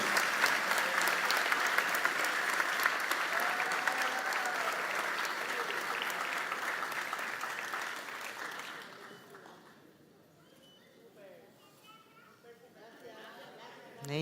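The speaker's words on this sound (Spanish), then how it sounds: "Un aplauso para los tesoros vivos." An audience at a harp festival in Asunción, Paraguay applauds honored elders, a loud, steady round of clapping mixed with chatter that fades out partway through, leaving quieter voices.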